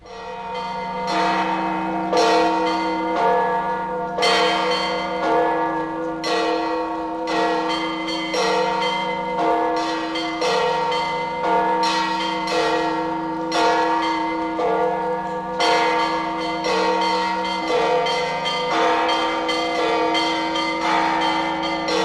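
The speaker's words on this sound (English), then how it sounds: "as we listen to the Eastern sound of bells" Eastern church bells peal continuously in overlapping, resonant strikes with long ringing decays, a dense, loud cascade of tolling throughout.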